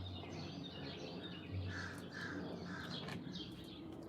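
A crow caws several times outdoors near a porch, the calls moderately distant and fairly faint over a steady background hiss.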